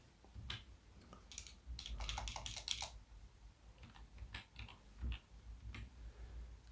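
Typing on a computer keyboard while entering text in MS Word, quiet and close, with a burst of quick irregular key clicks followed by scattered single taps.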